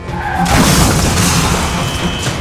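A speeding car crashes into a DCM truck in CCTV footage, a dense loud crashing roar with a boom and shattering that persists for a couple of seconds.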